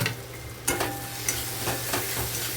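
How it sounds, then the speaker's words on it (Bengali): Spices stir into frying paneer bhurji with tomato in a pan: a spatula scrapes and taps in a few distinct strokes over a continuous close sizzle. "দিলাম দিয়ে একটু নাড়াচাড়া করবো ভালোভাবে"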